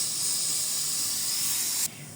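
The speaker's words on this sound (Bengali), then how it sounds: "তেজপাতাটাকে ব্যাটারের মধ্যে চুবাই নিয়ে তেলের উপরে ছাড়িয়ে দিতে হবে।" Batter-coated bay leaf dropped into hot oil in a kadai over low heat, giving a steady loud hiss of sizzling that cuts off abruptly near the end.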